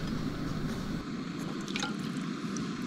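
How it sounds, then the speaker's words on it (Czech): Water runs and splashes steadily from a tap while dishes are washed, with faint drips and clinks, close by and fairly loud, then the flow quiets. "A takhle se umývá nádobí."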